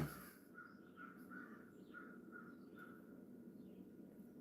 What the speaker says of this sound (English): Except for the crow ruining the tranquility of our environment.